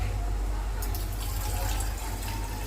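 Water pours into a plastic bottle, a steady rushing fill with a rising gurgle, close and continuous throughout.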